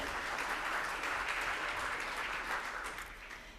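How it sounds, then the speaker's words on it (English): Conference audience giving a warm round of applause for a panelist at a plenary session on governance, a dense steady clatter of many hands that holds throughout, then begins to thin near the end. "So one warm applause for Mrs."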